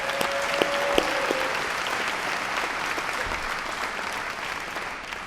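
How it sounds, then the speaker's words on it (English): Steady, full applause from a gala crowd honours the Hispanic Woman of the Year. The dense clapping holds throughout and fades slightly toward the end, with a few faint tones sounding early on. "How about another round of applause for our magnificent Hispanic Woman of the Year"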